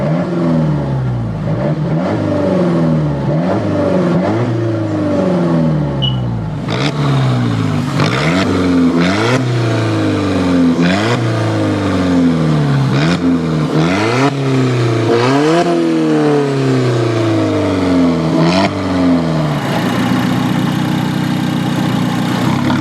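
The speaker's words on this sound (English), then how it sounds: "let's put the keys in the ignition and start the engine" An Alfa Romeo 4C engine starts up and is revved repeatedly, each loud close rev climbing and falling back, settling into a rumbling idle between blips.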